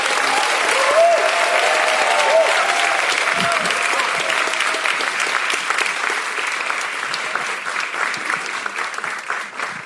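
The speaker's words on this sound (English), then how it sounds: "please give another big round of applause to Stefan and Damon." Loud, sustained applause from an audience at a live podcast recording marking the 70th anniversary of Brown v. Board, filling the whole stretch and tapering slightly toward the end.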